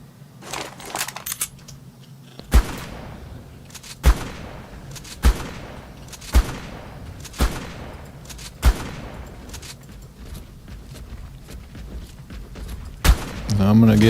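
Shotgun blasts in the video game Ark Survival Evolved ring out in a steady series, seven sharp loud reports spaced about a second apart, each leaving a decaying tail, over a low background hum with a final shot near the end.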